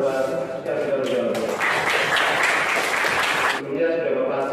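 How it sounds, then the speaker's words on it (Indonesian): A class applauds a correct answer with a short burst of clapping that swells and fades within a couple of seconds, with voices talking before and after. "Kasih tepuk tangan buat yang sudah menjawab."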